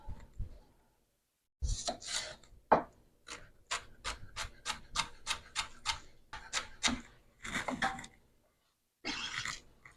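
A knife chops red onion on a board in a home kitchen, a run of crisp, rapid, evenly spaced taps in close bursts with short pauses between them, heard alone.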